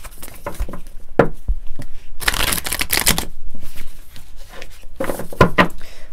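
Moonology oracle cards are shuffled by hand in quick riffling bursts, loud and close, with short pauses between the flurries and no talking.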